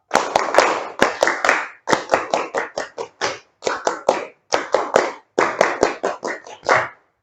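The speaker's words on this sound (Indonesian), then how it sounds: "2 kali tepuk pramuka." A school class performs Scout rhythmic clapping (tepuk pramuka), with sharp, loud hand claps grouped into patterned bursts separated by brief pauses and repeated through the whole passage, with no talking.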